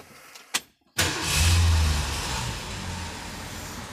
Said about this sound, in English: Actually, we'll start the car here and we'll do the windows here.